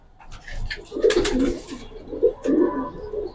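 Several close Giribaz pigeon coos roll out in quick succession, soft throaty calls with a bit of background rustling.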